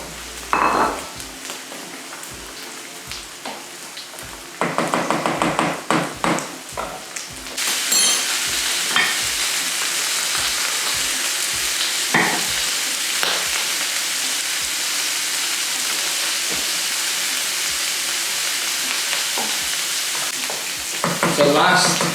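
Vegetables for a curry hit a hot pan and stir-fry, with a continuous loud sizzle broken by repeated clattering stirs and scrapes of utensil against pan, close up and without talk.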